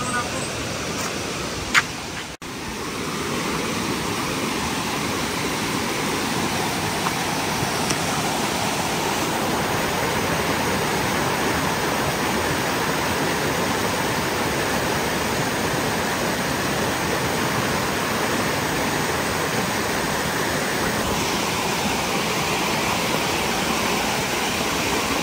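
A waterfall at a sacred indigenous site roars with a steady, dense rush of falling water that fills the whole scene, with faint voices under it.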